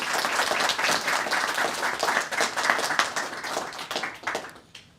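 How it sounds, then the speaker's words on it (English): Mourners at a life celebration service give a warm round of applause, dense steady clapping that holds for several seconds before thinning and fading out at the end. "Let's give her a big round of applause too,"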